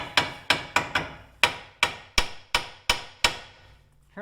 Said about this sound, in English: So now I'm going to try and hit this with a hammer.